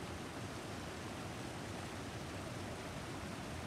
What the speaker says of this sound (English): Yeah, that's a big waterfall.